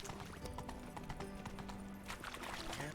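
Hooves of Geralt's horse Roach clip-clop at a steady gallop through the city of Novigrad in the Witcher 3 video game, a dense, rhythmic pounding under game ambience.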